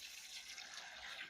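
Water poured into a Reencle kitchen composter, a short, faint, steady trickle and splash lasting about a second.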